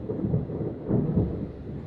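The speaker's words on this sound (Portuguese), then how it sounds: "Trovão." Deep, rolling thunder rumbles steadily through a storm over a home garden with potted plants, a continuous low roar swelling twice without any voices.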